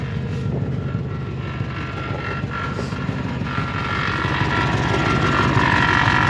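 A truck engine with a busted exhaust, after damage from a fence post, idles with a deep, throbbing rumble that runs steadily and swells slightly louder toward the end, with no talking.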